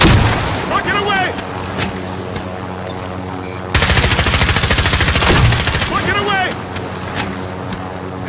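A rocket launched in a shooter video game bursts out as a loud, roaring blast about midway, lasting a couple of seconds over ongoing game noise and scattered gunfire, with voices talking.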